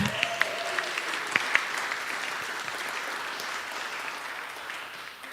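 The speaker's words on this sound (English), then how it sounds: "Everybody clap!" An audience at a business hall of fame event claps steadily in a large room, a dense, even patter that begins with a few sharp individual claps and slowly tapers toward the end.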